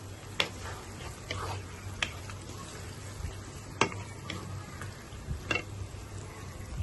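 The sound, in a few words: chopped onions frying in oil until crisp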